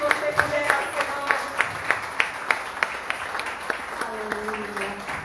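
Scattered, rhythmic hand clapping from a congregation during a church service, moderately loud, with sustained voices singing or praising underneath.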